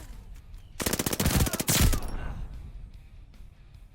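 Armaguerra submachine gun in a video game fires a rapid, loud close-range burst of about a second, followed by quieter game ambience and faint trailing sounds.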